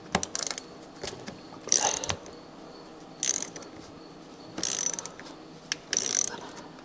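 A ratchet works a tight half-inch nut loose on an old lawn mower, giving about six short bursts of rapid metallic clicking separated by brief pauses. It is close and clear, with no talking.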